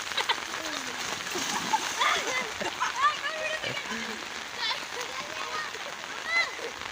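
Heavy rain falls steadily as a broad, continuous hiss with scattered splashes and drips close by, while voices talk over it at moderate level.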